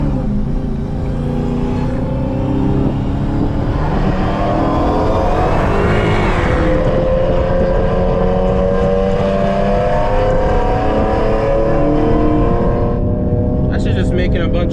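A tuned Dodge SRT Hellcat Charger engine runs at half throttle, a loud, close, rumbling roar that rises in pitch through a rev and eases back, with a voice talking over it.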